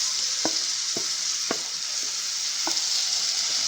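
Bean stew with already-cooked beans, carrots, cornmeal, green pepper and tomatoes in a pot over a steady sizzling hiss, with a few sharp clinks of stirring or spooning spaced through it.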